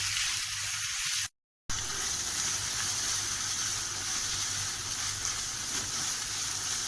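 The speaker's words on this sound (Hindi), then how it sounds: "5 मिनट के लिए इसे फ्राई करना" Minced meat keema and onion fry in a pan, giving a steady, even sizzling hiss that carries on without a break apart from one short silent gap.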